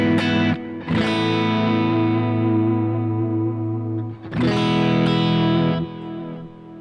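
Electric guitar through a Zoom MS-50G with delay and drive and no reverb rings out in loud sustained chords, with two fresh strums and echoing repeats trailing each one.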